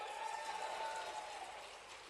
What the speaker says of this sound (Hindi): जरा ताली वाली बजा के बताओ।